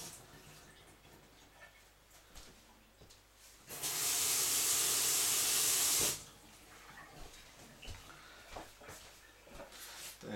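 Tap water runs loudly into a sink for about two and a half seconds while a radish is rinsed, rising abruptly and cutting off, with quieter kitchen handling before and after.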